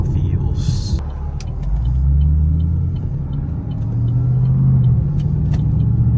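A 2013 Camaro SS pulling out onto a main road, its engine rumbling low and rising as it accelerates, heard from inside the car with a brief burst of speech and a few clicks.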